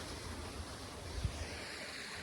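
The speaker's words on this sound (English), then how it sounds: "you can actually see the water flowing down there" Creek water flowing below a viewpoint, heard as a steady broadband rush with a faint low thump partway through, fairly distant and continuous, with no talking.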